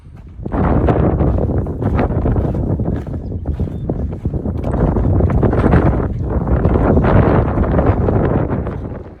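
Wind gusting across an open mountainside, buffeting close to the microphone in loud, rough surges that swell and ease for several seconds without pause.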